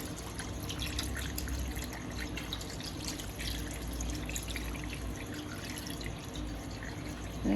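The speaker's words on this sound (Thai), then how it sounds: "ตอนนี้จะเติมน้ำลงไปแล้วก็ นี่เลย เติมน้ำได้เลย" Water pours steadily into a pot of braised pork leg with salt, a continuous splashing trickle that runs unbroken throughout at moderate loudness, without speech.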